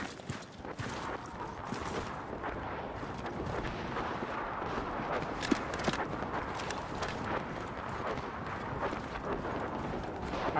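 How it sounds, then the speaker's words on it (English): Footsteps patter steadily in a video game, a dense continuous run of hollow thuds and clops against rumbling background noise. "I guess those footsteps were yours."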